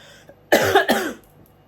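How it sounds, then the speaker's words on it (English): One hoarse, chesty cough from a man with a lingering cough bursts out in two quick, close pulses, loud and near, with quiet room tone before and after. "I've got a bit of a cough."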